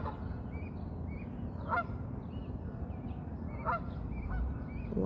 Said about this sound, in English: because there's some geese right there.